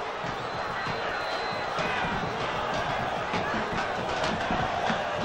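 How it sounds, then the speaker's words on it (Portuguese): Vitória football fans at a 1998 Brazilian league match against Corinthians make a dense, steady stadium crowd roar, with shouts and whistles rising through the din. "A torcida do Vitória vai pegar no pé do juiz"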